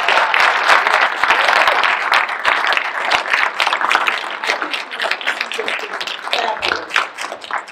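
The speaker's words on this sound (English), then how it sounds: "I think this panel deserves another round of applause" A panel audience breaks into dense, loud applause, many hands clapping together in a sustained burst that thins slightly toward the end.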